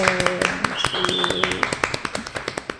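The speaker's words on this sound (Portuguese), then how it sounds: "Uma salva de palmas, minha gente!" A seminar audience in Catanduva claps in quick, even, rhythmic beats that continue steadily throughout, with a voice speaking over the applause.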